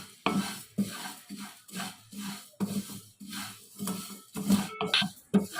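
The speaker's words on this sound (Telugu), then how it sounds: "ప్యాన్ని మళ్ళీ స్టవ్ మీద పెట్టి 1 కప్పు సేమియాను వేసుకొని ఫ్రై చేసుకోవాలి" One cup of vermicelli (semiya) fries in a pan on a stove over low flame while being stirred, giving repeated scraping and rustling strokes of the spoon against the pan in an uneven rhythm, close and moderately loud.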